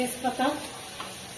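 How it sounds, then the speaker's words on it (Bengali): Rice and potatoes fry in a pan with whole spices, a soft sizzle with a couple of brief stirring scrapes, and one word spoken over it. "চালটা ভালো করে ভেজে নিচ্ছি, আলুটা ভাজতেছি, চালটা ভেজে দিচ্ছি"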